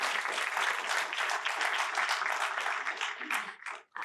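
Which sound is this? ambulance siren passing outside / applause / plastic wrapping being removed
applause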